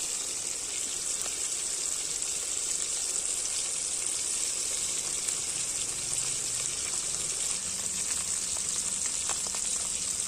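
Fish frying in a kadai outdoors on a farm, with a steady bright hiss of hot oil running continuously at moderate volume, with faint crackles and no voices.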